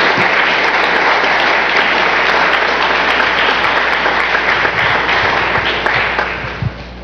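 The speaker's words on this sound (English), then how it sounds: "give a warm round of applause for the speaker of the day" Applause welcoming the speaker at a lecture on the artist and scientist: dense, loud, sustained clapping from a large audience that holds steady for several seconds before starting to taper off.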